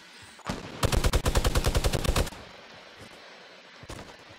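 A minigun in the Fortnite video game fires a rapid rattling burst of about a second and a half, loud and near, followed by a faint single shot later.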